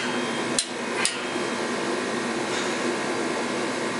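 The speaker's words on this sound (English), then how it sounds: "If you're wondering why I clicked the torque wrench twice" Two sharp clicks from a torque wrench tightening bolts on a Kenworth truck during transmission housing and flywheel work, about half a second apart over a steady hum of shop noise.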